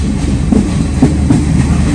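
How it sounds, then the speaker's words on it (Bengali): A train on a Sri Lankan route from Colombo toward Nuwara Eliya reversing out of a station, a close, loud low rumble with a few soft wheel clacks. "ট্রেনটা এখন উল্টা যাচ্ছে"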